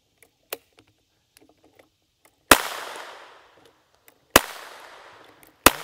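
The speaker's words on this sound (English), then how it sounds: "try to hit that plate, 4-inch plate at 100 yards with this Gatling gun" A Tippmann .22LR Gatling gun firing at 100 yards outdoors, heard as a few sharp distant cracks spaced seconds apart, each trailing off in a long rolling echo, with faint small clicks between.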